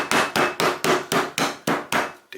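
A hammer pounds butterflied chicken sandwiched between sheets of plastic wrap, eight evenly spaced heavy thuds in quick succession, close and loud with no talking.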